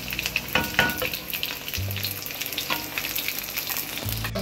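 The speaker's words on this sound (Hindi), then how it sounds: "और इसको अच्छी तरह भून लूंगी।" Minced meat frying with tomato paste in a hot pan, a continuous close sizzle with a few clinks and scrapes of a stirring spoon, no voices.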